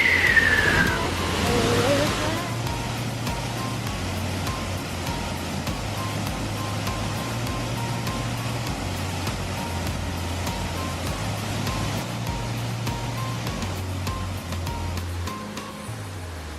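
Steady broadband rushing of a Welsh waterfall you can walk behind, a loud continuous roar with low rumble throughout, heard close up and alone without talk.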